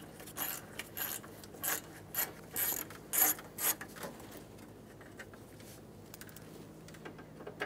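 Quiet ratcheting on a 2003-2008 Honda Pilot as two 10 mm bolts come out of the AC condenser cooling fan assembly: several short clicking bursts close by, then a softer mechanical rustle.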